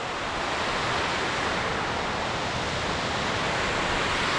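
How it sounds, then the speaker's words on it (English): Rapids at Murrokoski on a wilderness hike route roar steadily as water rushes downhill, a loud, unbroken broadband rush with no pauses and no voices. "Water coming down the hill."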